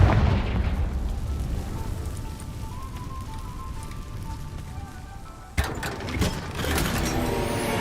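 A Confringo blasting spell goes off in Hogwarts Legacy, a sudden boom at about five and a half seconds breaking through a steady rumbling, rain-like game ambience, followed by crackling debris.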